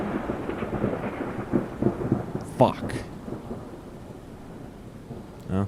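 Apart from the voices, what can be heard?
rain and thunder during a storm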